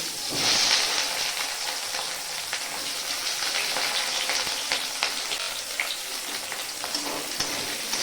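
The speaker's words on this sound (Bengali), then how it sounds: "পেঁয়াজগুলো ভেজে নিচ্ছি।" Onions fry in hot oil for a simple meat curry, with a steady, close, bright sizzle throughout and occasional soft stirring crackles, with no talking.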